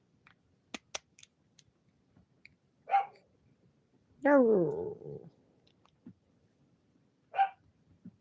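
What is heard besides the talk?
dog barking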